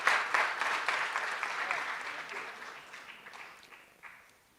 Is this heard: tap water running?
no